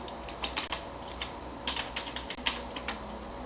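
A password being typed on a computer keyboard: a quick run of light, close key clicks in an uneven rhythm with no talking.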